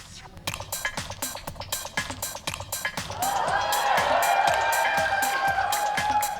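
A large BronyCon convention crowd for a live My Little Pony show: rhythmic clapping in a steady beat gives way to a loud, sustained roar of cheering and whooping that fills the hall.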